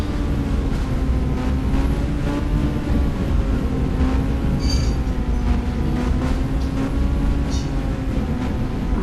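A passing train in the Indian Bike Driving 3D video game gives a steady, loud, continuous rumble with wheel noise and a droning tone throughout, with no talking.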